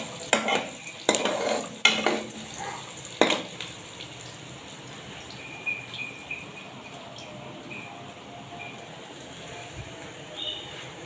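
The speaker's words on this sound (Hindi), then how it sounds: "जैसे ही जीरा अच्छा सा गर्म हो जाए उसके बाद हमने इसमें प्याज डालना है और हल्का सा फ्राई करना है" Onions fry with cumin in a pan, a soft steady sizzle beneath several sharp clinks and scrapes of a spoon stirring at the start, then fading to a quieter sizzle with occasional light taps.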